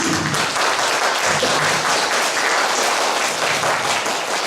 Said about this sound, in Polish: bardzo bym prosiła o brawa dla Kasi.